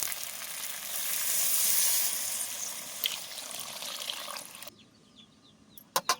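Water pours into a hot pan of potato and spice masala with a loud rushing hiss that fades after several seconds, followed by a couple of sharp utensil knocks.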